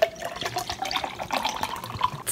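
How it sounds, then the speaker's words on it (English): Water poured from a plastic bottle into a drink, a steady close trickling splash that runs the whole stretch at moderate loudness. "I'll probably pour the rest of this water bottle in there to lessen the taste."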